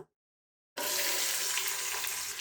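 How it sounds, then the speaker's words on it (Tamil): Chopped onions hit hot oil in a pot for mutton biryani, bursting into a loud, steady, close sizzle after a brief silence and holding continuously. "இப்போ இந்த அளவு வெங்காயம் வதங்கணும்"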